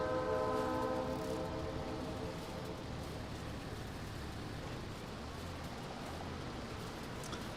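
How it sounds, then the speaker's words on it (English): Train passing in the farming video game Farming Simulator 25 on an English countryside map, a horn blast at the start fading into a steady rumble of rolling wagons, moderately distant, with no talk. "Hear that train?"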